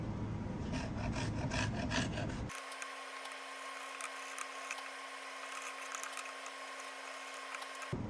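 A sharp chisel scraping and paring along the edge of a wooden recipe box, a short burst of close rasping strokes followed by a steady low hum in the background.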